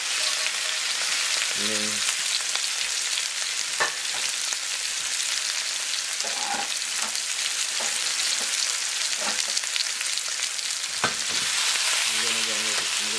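Oxtail browning in a pot for Jamaican oxtail, a steady close sizzle and crackle of frying meat running throughout, with occasional clinks and stirring knocks and a brief spoken phrase.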